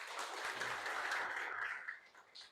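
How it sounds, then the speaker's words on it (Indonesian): A classroom of students applauds together, soft dense clapping that swells and then tapers off toward the end, fairly faint and distant. "Tepuk tangan buat kita semua."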